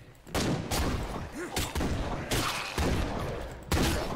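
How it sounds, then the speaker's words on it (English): Bursts of gunfire in the zombie survival video game State of Decay 2, several loud volleys in quick succession with a rapid, rattling rhythm and no talking. "You guys suck at shooting."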